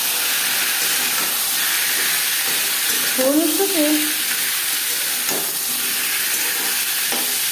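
Potatoes hit hot oil already crackling with panch phoron and bay leaf, a continuous close sizzle with scraping stirs and a brief clatter midway, no talking over it.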